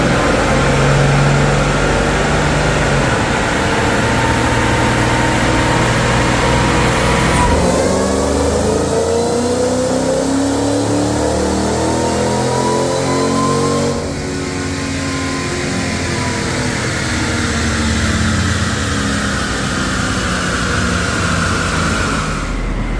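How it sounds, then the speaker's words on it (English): A Mercedes CL55 engine revs hard on a chassis dyno, loud and close, climbing through repeated gear pulls with rising and falling engine tones for the whole run, with no talk. "Let's get the CL55 on the dyno."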